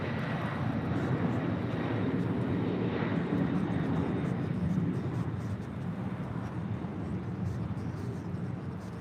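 A Delta 767-400ER airliner departs LAX bound for JFK, its jet engines producing a loud, steady, broadband roar throughout, with faint radio chatter occasionally audible underneath.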